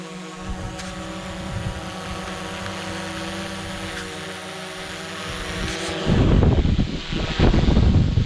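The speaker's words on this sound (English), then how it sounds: "Oh, the wind!" Wind buffets the microphone during a DJI Mavic 2 Pro drone flight, a steady rushing roar under a droning motor hum that swells louder and rougher near the end.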